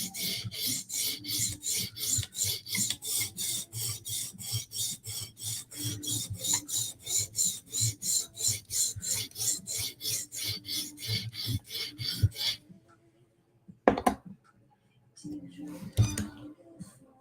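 A blade drawn back and forth across a sharpening stone in fast, even rasping strokes, close and loud, for about twelve seconds, then silence broken by a couple of isolated scrapes and knocks.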